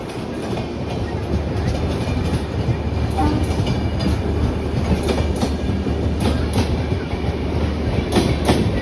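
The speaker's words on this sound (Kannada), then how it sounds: "ಸಡನ್ನಾಗಿ ಯಾವುದೋ ಟ್ರೈನು ನಮಗೆ ಕ್ರಾಸಿಂಗ್ ಆಗ್ತಾ ಇದೆ ನೋಡಿ" A train crosses past a moving train near Arakkonam Junction on a fast Tirupati to Chennai run: continuous loud rumble and rushing rail noise with clickety-clack wheel beats, close and steady throughout, with faint speech mixed in.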